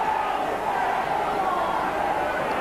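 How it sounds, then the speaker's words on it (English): A rugby league crowd at Bradford jeering and screaming at the referee, a dense continuous roar of many voices filling the ground, with commentary running over it. "the Bradford crowd screaming at the referee that Wigan were all offside"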